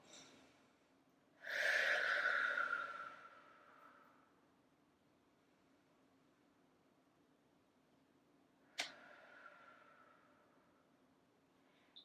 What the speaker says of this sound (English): you just want to take a couple of deep breaths as well